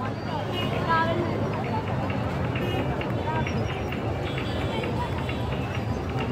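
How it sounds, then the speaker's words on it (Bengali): A noisy crowd fills a riverside beach resort at UK Beach in Urakanda, Rajbari, where boats ride on the river; dense, steady babble of many voices runs throughout with no single sound standing out. "এখানে অনেক মানুষের ভিড়, কোলাহলপূর্ণ।"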